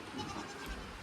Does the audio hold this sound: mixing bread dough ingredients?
no